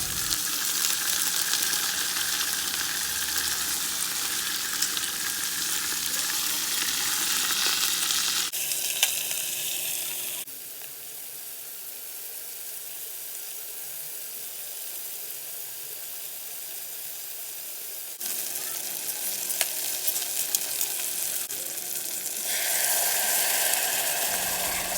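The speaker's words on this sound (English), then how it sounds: "So I knew that it was on high heat to sear the meat" Meat searing on high heat in a pressure cooker for barbacoa gives a steady, loud frying hiss. It dips quieter through the middle and then swells again, with no talking.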